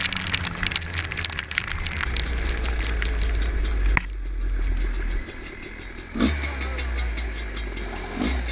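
Heavy rain pours down during a motorcycle ride, a steady loud wash of water with an engine rumbling low underneath, plus a couple of brief knocks along the way.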